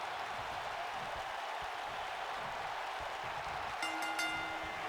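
Crowd noise from a WWE wrestling video game match in an arena, a steady broad roar of an AI audience split between sides, continuous and fairly loud, with a brief horn-like tone rising near the end.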